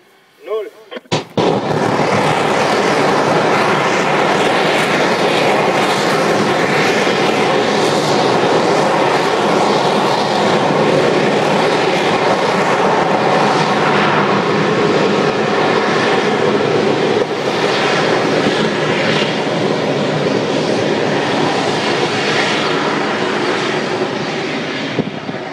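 A Copenhagen Suborbitals HATV rocket engine test firing: after a brief start, a loud, sustained roaring blast with crackling texture holds steady for over twenty seconds, close and overwhelming, with faint voices barely audible beneath it.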